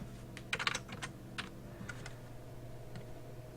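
Someone types quickly on a computer keyboard in a quiet room, with an irregular burst of key clicks clustered early and a few scattered taps after it, all close by, under a steady low hum.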